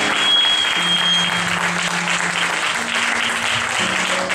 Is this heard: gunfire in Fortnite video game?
no